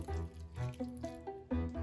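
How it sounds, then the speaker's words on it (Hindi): Water is poured into an egg batter and mixed by hand, a faint wet trickling and sloshing heard up close in short uneven bursts. "पानी मिक्स कर लेते हैं।"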